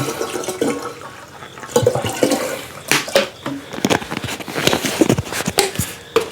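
Water poured into a jar of 140-proof pumpkin rum, a steady splashing gush with brief surges, heard close and alone.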